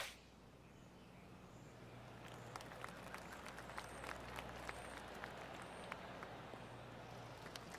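A golf video game plays soft scattered clapping, a faint golf clap that builds gently over a quiet background hum with sparse sharp claps.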